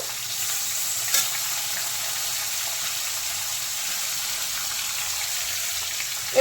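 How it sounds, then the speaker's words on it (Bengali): Chopped onion and tomato frying in a pan for chicken tarka dal, giving a steady, close sizzle with a couple of brief clatters and no talking. "পেঁয়াজ দিয়ে দিলাম আর টমেটো দিয়ে দেবো"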